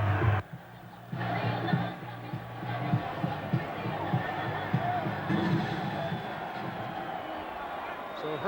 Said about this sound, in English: a capacity crowd cheering him as he's being escorted off